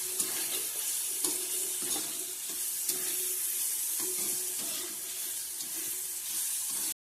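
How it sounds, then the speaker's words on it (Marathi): Chopped onions sizzle steadily in a hot pan for Konkan-style bhendi bhaji, a dense close frying hiss with occasional spoon scrapes and taps against the pan. "हे आपलं ना कांदे भाजून घ्यायचं."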